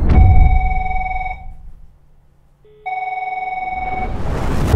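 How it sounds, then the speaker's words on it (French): A telephone rings loudly with a bright, trilling bell tone, pauses briefly, then rings again. "Téléphone."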